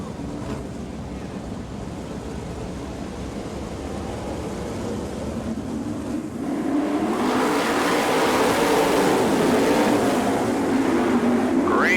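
Sprint cars at an All Star Circuit of Champions dirt-track heat race in Bloomington, Indiana, their engines roaring steadily and swelling louder as the field heads to the start.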